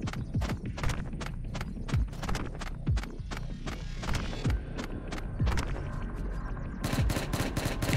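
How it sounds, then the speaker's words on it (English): Rapid bursts of gunfire from the survival video game Unturned, a Rust-style server, crackle repeatedly at a moderate distance, with sharp cracks scattered over a steady background hum and no talk. "Oh, there's shots going on."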